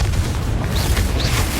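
The Expelliarmus spell is cast in the Hogwarts Legacy video game as a loud, dense rumbling burst with a brief whooshing sweep layered on top.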